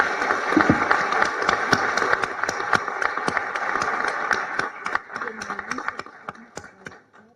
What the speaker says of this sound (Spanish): Así que un aplauso para los compañeros del ministerio.